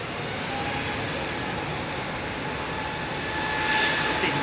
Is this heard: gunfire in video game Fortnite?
no